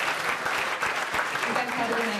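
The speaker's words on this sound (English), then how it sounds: "Please, one more round of applause for these beautiful, wonderful ladies." A crowd claps steadily and fairly loudly at a high school fall sports banquet for football, cheer and dance team members, with dense, even applause throughout.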